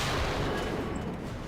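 A shot from the M50 Ontos recoilless-rifle tank destroyer in War Thunder, a dense, loud broadband blast with a heavy low rumble that sustains across the whole moment, no talking over it.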